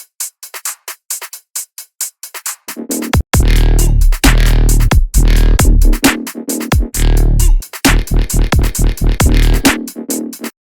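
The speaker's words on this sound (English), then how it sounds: "This is a must-die drum loop," A punchy drum loop with snappy, crisp tops plays loud and alone, its hits starting sparse and then locking into a dense driving groove with deep low-end thumps, dropping briefly before coming back in full.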